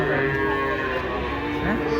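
Cattle low loudly and steadily while being unloaded from a truck, with sustained moos layered over a constant background din and no talking.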